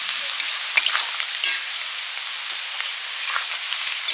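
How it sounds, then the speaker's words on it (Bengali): Onions fry in a pan with spices, a bright continuous sizzle punctuated by several crackles and stirring clicks, close and fairly loud, with no speech. "পেঁয়াজটা ভাজা হয়ে গেছে"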